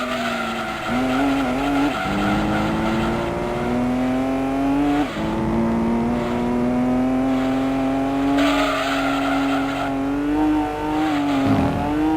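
Racing car engine in the video game Gran Turismo 2, a loud, sustained high-revving drone that climbs in pitch through gear changes, with bursts of tire squeal and skidding and no talk.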